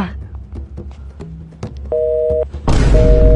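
A steady electronic phone tone repeats over background movement and thumps, then continues beneath a loud rushing noise.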